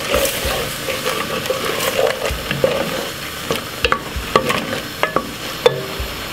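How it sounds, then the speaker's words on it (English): A pan of king prawns in tomato and basil sauce is stirred over heat, with a low sizzle beneath irregular clinks and scrapes of the spoon against the pan, louder toward the end. "Give it a quick stir."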